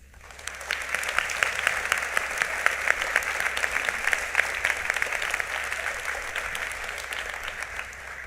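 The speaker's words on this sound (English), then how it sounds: "please join me for a round of applause to recognize our veterans that are here as well as their families" A Veterans Day ceremony audience applauds veterans and their families with steady, dense clapping that swells quickly and holds at an even level throughout.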